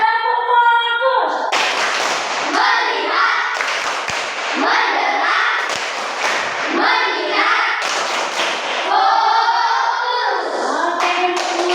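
Classroom children perform a focus clap routine, producing several bursts of loud unison claps in a rhythmic pattern, interleaved with the children's chanting voices and a teacher's speech.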